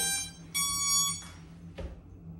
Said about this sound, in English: that beep means it's ready to fly